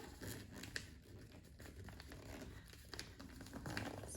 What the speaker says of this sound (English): So then I'm folding in the back side first, like this, and then I'll fold this top part in.